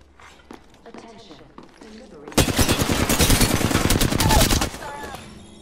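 Rapid automatic gunfire bursts out loud and close in Apex Legends, a dense rattling volley lasting a couple of seconds after quieter footsteps and brief talk.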